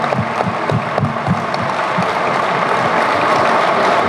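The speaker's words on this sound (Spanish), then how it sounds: "pues démonos un aplauso." Staff applaud themselves after a citizens' service day at a government office, with loud, dense clapping from a group that stays steady throughout.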